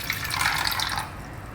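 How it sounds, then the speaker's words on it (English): Soaking water drains off soaked methi (fenugreek) seeds in a close, continuous splashing trickle that fades after about a second. "First drain out the water."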